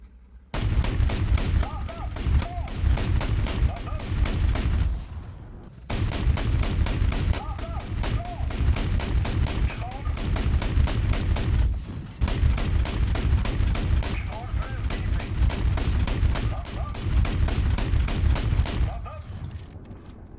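STRF 90C Bofors autocannon firing in War Thunder, long bursts of rapid, evenly spaced heavy shots, loud and close, three sustained strings broken by short pauses while reloading.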